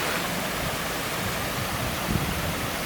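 Broadband, steady rushing of creek water pouring past a temporary dam built to form a swimming hole, heard close and fairly loud with an even wash of noise throughout and no voices.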